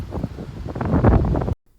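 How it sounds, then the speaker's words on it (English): Gusty wind buffets an outdoor microphone near Pikes Peak, a broad low rumble that swells and grows louder before cutting off abruptly. "We apologize for the noise of the wind."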